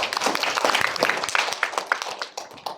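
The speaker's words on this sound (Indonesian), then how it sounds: "Tepuk tangan buat Lisa." An audience claps for a participant named Lisa at a detox body, mind and soul seminar, with dense overlapping hand claps that hold steady for a few seconds and then thin out, moderately loud in a room.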